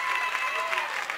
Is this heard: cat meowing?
no